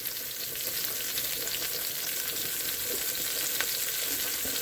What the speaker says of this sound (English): I'm going to go ahead and take the onions and mushrooms, dump them in.